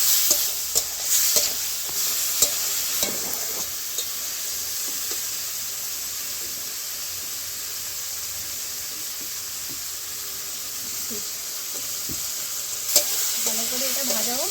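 Sliced onion and garlic with turmeric powder sizzle and fry in an oil-filled pan, a loud continuous hiss with occasional scraping stirs throughout, no one speaking over it.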